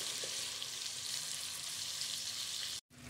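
Chicken curry with tomatoes fries in a pan, a soft, even sizzle heard close and alone, briefly cut off near the end.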